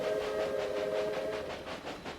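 A train rolls along the tracks in the railway simulation game Railway Empire, a steady rumbling run with sustained tonal whine, fairly constant in loudness and heard alone without talk.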